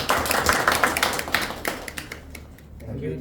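A Toastmasters meeting audience gives a round of applause, dense clapping that starts strong and trails off into sparse claps near the end, with a voice faintly present.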